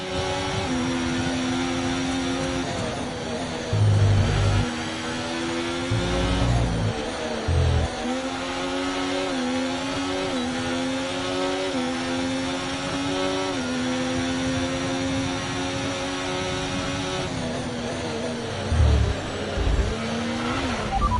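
F1 racing cars in an F1 video game, Austrian GP, high-pitched engine whine rising and shifting through gears continuously, with brief low thumps and a few short drops in revs.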